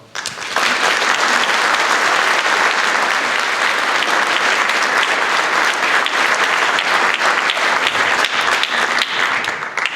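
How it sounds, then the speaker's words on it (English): Sustained applause from a school audience at a National Honor Society induction ceremony, loud and steady for nearly ten seconds with no voices over it. "You may now applaud."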